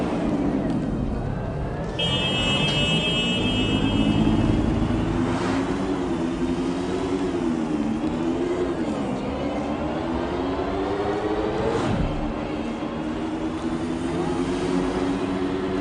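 A car driven in the video game Watch Dogs Legion gives a steady, droning engine hum that rises and falls in pitch as it accelerates and eases off, with a brief electronic buzzing tone early on.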